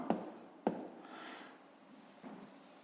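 A pen scratches across a notebook page in a few quick, faint strokes, two sharper marks near the start and then softer writing in a quiet room.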